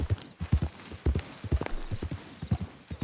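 A fast, nimble horse in the video game Red Dead Redemption 2, heard as a steady rhythmic clip-clop of hooves at a gallop, close and clear, with faint background sound.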